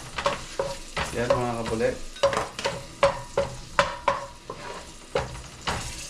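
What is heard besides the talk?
garlic frying in a pan for tinolang manok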